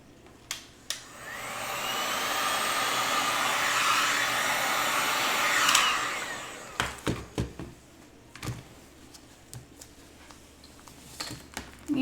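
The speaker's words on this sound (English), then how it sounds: "Let me get my blow dryer out." A blow dryer roars steadily for about six seconds over a surfboard resin pour, then cuts off, followed by a series of knocks and clatters.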